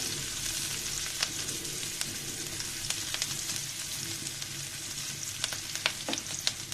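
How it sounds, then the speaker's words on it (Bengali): Chopped onion and garlic fry together in a pan for an egg and eggplant dish, giving a continuous close sizzle dotted with sharp crackles and pops throughout. "পেঁয়াজ রসুন একসাথে কুচি করে দিয়ে দিয়েছি, দিয়ে ভেজে নিচ্ছি"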